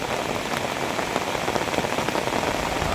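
Rain pours steadily onto surfaces outside a house by the road, a dense, even hiss of drops at close range with no voices.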